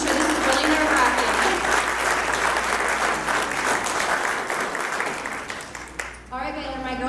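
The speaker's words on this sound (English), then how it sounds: "So everyone give him a big round of applause, because I'm sure this is really nerve-wracking." Crowd applause for an auctioneer at a live debate event, sustained loud clapping that tapers toward the end, where a voice begins speaking.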